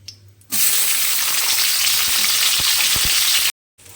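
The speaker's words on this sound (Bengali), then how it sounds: "তো তেল চাপিয়ে দিয়েছি, এবার এক এক করে সবজিগুলো ভেজে নেব" Vegetables frying in hot white cooking oil, a sudden loud sizzle that bursts in and holds steady for a few seconds with faint clicks of stirring, then cuts off abruptly.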